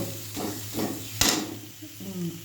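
Fried leaves tumble from a pan into a mixer jar with a few soft rustling scrapes and one sharp clink of metal on the jar, quiet over a faint background hum.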